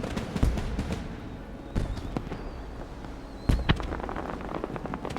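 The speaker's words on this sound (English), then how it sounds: "I do like watching the fireworks." Fireworks bursting in the Final Fantasy XIV video game, a run of sharp cracks and booms with crackling tails spread over a steady busy game background, loudest bursts near the start and middle.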